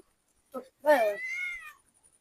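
A house cat waiting at a backyard fishing pond for a caught fish lets out a short chirp, then a long, rising and falling meow close by.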